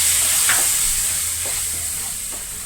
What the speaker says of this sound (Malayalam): വിനീഗർ ഒഴിച്ചു കൊടുക്കാം.